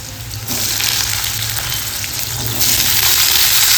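Potatoes fry steadily in salted mustard oil in a kadai, a loud, continuous close sizzle that swells slightly toward the end, with no voices.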